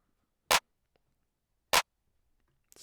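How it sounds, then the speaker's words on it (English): Simple clap pattern for a type beat: two sharp, isolated claps about a second and a quarter apart, with a third starting at the very end, alone in near silence. "they usually have like a super simple clap pattern."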